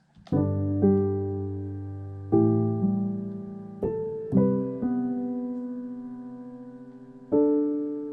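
A soft piano plays a slow sequence of sustained chords, each struck gently and left to ring and fade before the next.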